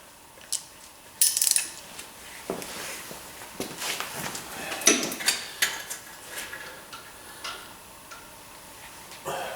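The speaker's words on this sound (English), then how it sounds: "Now let's see if a little 3/8 ratchet will loosen it." A small 3/8-inch ratchet works loose a bolt on a Jeep Renegade, giving scattered close metallic clicks and ticks with light handling clatter, no talking.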